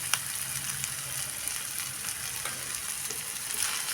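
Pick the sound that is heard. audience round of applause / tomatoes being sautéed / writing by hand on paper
tomatoes being sautéed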